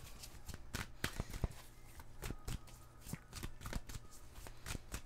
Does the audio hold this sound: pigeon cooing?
no